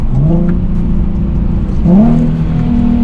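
Loud, close engine drone from a Toyota A90 Supra that climbs in pitch twice, with a quick rev blip near the end as it automatically rev-matches on a downshift.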